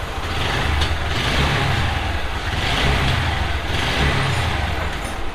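A TVS Apache 4V motorcycle engine runs steadily at idle with a slight tappet noise, a continuous close mechanical drone with faint rhythmic pulses and no voices.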